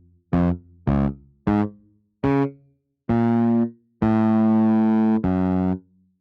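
A series of distorted, fuzzy instrument notes plays loud, first short stabs, then longer sustained tones, with a reverberant tail ringing out after each.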